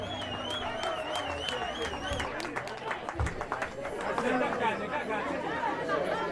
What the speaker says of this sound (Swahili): Wapi makofi yenu?